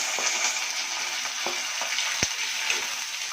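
Onion, green chili, curry leaves and garlic frying in a pan give a close, bright, steady sizzle, with a few sharp crackles and light spatula knocks throughout.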